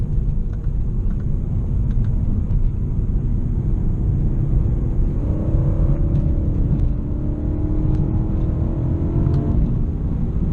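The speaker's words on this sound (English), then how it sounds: "BMW M3 with a V8, and the AC's on and I'm romping on it" BMW E90 M3 V8 engine accelerates hard while driving, a deep, loud rumble heard from inside the cabin with a rising engine note building in the latter half, continuous and without talk.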